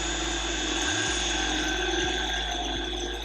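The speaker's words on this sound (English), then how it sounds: "drilling the other hole for the grill" Power drill boring a hole for a custom car grille, a steady high whine that runs throughout with a brief dip in speed and a few small clicks, close and fairly loud.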